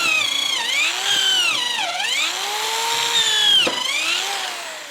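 A cheap Hyper Tough corded drill bores with a bit, its motor whining loud and close, the pitch dipping repeatedly under load and climbing back as it speeds up, with no talk.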